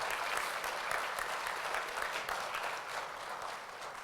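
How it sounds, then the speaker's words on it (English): Applause for the graduating class of a sheriff's office Blazer Academy at a boys' graduation ceremony, a steady wash of many hands clapping for several seconds, fairly distant and even, with no speech. "let's give them one more round of applause, the graduating class for the Sheriff's Blazer Academy"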